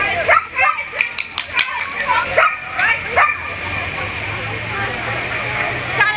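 A dog barks during a dog agility run at a competition, with several sharp yips and barks in the first few seconds that fade into steady background ambience.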